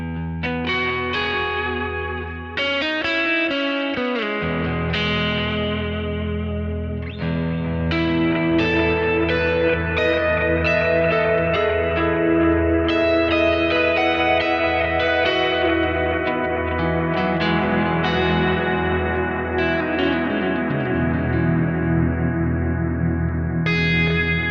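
Electric guitar played through a Kemper amp with an ambient delay and reverb effect, sustained notes building into a dense, washing swell of echoing repeats, loud and continuous with no talking.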